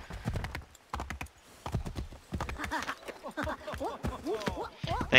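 Hooves clip-clop in a steady rhythm close by, with a horse snorting and a brief whinny near the end, in the video game Assassin's Creed III.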